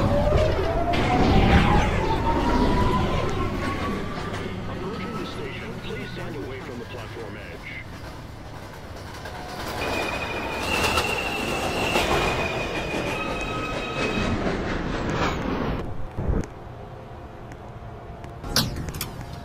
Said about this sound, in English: This is a Brooklyn College Flatbush Avenue bound 2 express train.